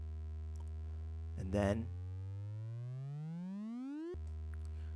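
A cinematic riser built in Reaktor: a steady buzzy synth tone with rich harmonics glides smoothly upward in pitch for a few seconds, then cuts back to the low starting note, with a brief spoken phrase over it near the start.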